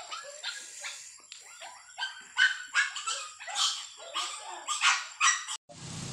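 A dog on a street at night gives a run of sharp, close barks and yips in an uneven rhythm, about a dozen bursts before it cuts off abruptly.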